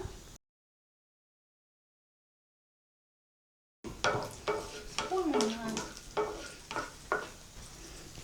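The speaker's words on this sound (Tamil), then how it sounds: "இதில் முந்திரி பருப்பை போட்டு வறுத்து எடுத்துடலாம்" Cashew nuts fry in a pan for an aval mixture snack, with a gentle sizzle and rhythmic scraping stirs; after a long silent gap the sound starts abruptly, and a voice is briefly heard.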